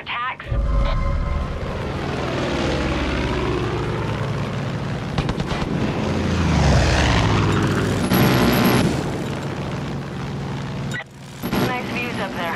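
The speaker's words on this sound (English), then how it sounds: "Sounds like the cult's got a recon helicopter in the air identifying resistance strongholds." A cult recon helicopter in the video game Far Cry 5, its rotor and engine a loud sustained drone that swells and shifts in pitch as it passes, with a voice speaking over it.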